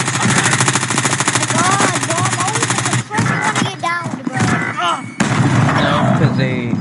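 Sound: gunfire in the video game Warzone

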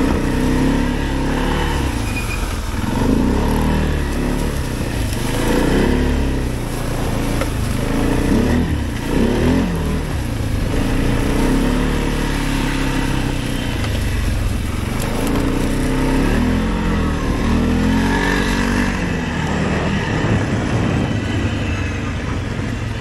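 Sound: Arctic Cat 700 engine revving while riding

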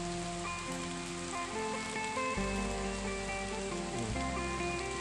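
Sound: rain falling on a roadside garden in the forest

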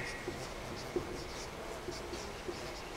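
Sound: writing with pen on paper

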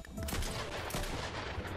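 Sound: gunfire from a pistol in the video game Fortnite

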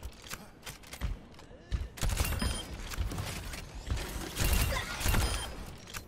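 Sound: Baptiste gunfire in Overwatch video game

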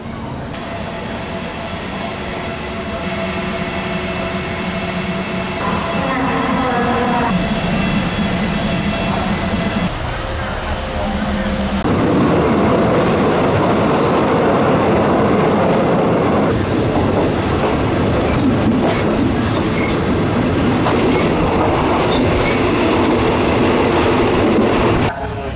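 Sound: third-class train from Bangkok to Ayutthaya riding

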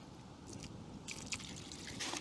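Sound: water being poured into fishing groundbait mix

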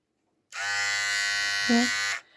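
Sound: Philips Hairclipper series 3000 hair clipper running

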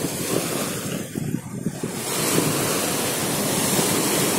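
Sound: strong wind and sea waves at Eretan beach

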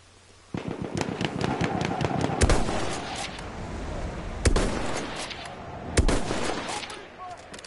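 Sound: gunfire, video game

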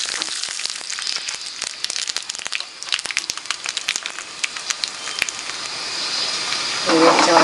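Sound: mustard seeds sizzling in hot oil

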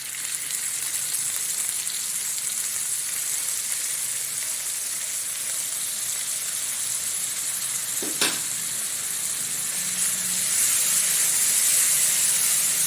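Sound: green chillies frying in pan for cabbage curry

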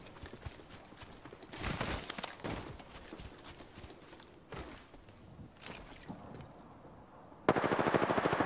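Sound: gunfire aimed at the player in the video game Apex Legends

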